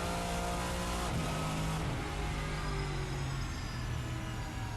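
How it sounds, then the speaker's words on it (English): A Race Sim Studio GT-M Lux V8 race car in Assetto Corsa whines and revs, with drivetrain gear noise and a couple of quick downshifts as the car slows into the pits, loud and close. "Listen to some of the drivetrain noises a bit, bring it back into the pits."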